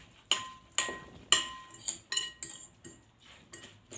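A spoon clinks repeatedly against a pot while ingredients, including mint leaves and leucaena seeds, are stirred together in a home kitchen; there are about a dozen sharp metallic taps in an uneven rhythm, close and fairly quiet.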